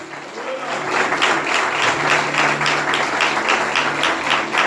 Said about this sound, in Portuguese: Vamos aplaudir o Senhor Jesus nessa noite?